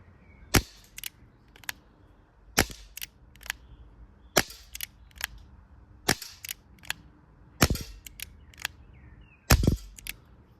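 A cheap airsoft gun fires single shots at a target about 10 meters away, about a dozen sharp snapping pops spaced irregularly with quiet handling noise between.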